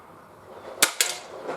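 A Benjamin Trail NP MK2 air pistol fires outdoors, giving two sharp, close cracks about a fifth of a second apart, followed by a softer trailing thump.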